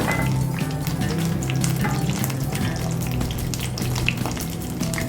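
Raw plantain pieces fry in a hot pan of oil, giving a steady, close, loud sizzle that runs throughout while the pieces are turned over.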